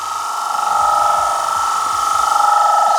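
A woodturning gouge riding the bevel inside a bowl on a lathe, producing a steady, loud, pulsing whir of the cut that holds for the full few seconds without talk.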